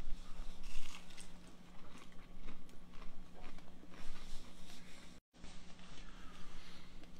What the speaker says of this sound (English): now, I'm anxious to try these onion rings